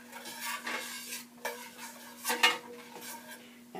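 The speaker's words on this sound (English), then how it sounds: "So now I'm just going to let that boil for just a minute." Brown gravy for cube steak bubbling and reducing in a pan, soft simmering with spoon scrapes and clinks against the pan, close, under a steady low hum.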